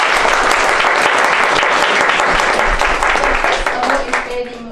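Sustained audience applause at an International Women Award presentation in Toronto, dense and loud from start to finish, thinning slightly in the last second as the clapping begins to fade.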